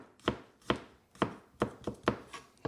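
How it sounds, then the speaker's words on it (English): Knife slicing garlic thinly on a cutting board, six or seven crisp evenly spaced chops in a steady rhythm, close and loud with no talk. "there's our ginger, and now we'll slice our garlic"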